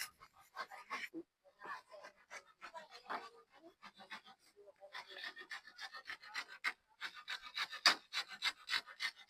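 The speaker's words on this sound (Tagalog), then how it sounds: "Naglalagari." Hand saw cutting wood at a campsite where a hut is being built, a steady rasping back-and-forth stroke rhythm that grows denser and louder toward the end, with no voices over it.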